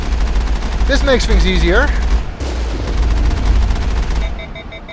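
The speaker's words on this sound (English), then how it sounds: "Oh, I overheated the Mako's gun" Rapid bursts of cannon fire from the Mako tank in Mass Effect, loud and repeated over a steady engine rumble, with someone talking over part of it and a pause mid-clip before more fire.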